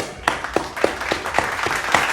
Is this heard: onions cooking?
no